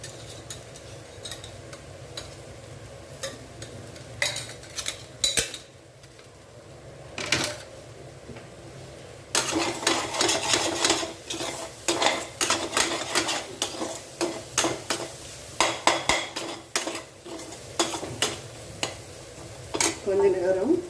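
Ingredients sautéing in oil in a pan on the stove, with soft, steady sizzling and frequent sharp clicks and scrapes of a spoon stirring against the metal. The stirring grows busier and louder in the second half.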